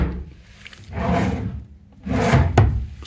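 A wooden drawer in a hotel room in a converted monastery is slid open and then shut, giving two loud, close sliding rumbles, each ending in a soft knock, with no voices.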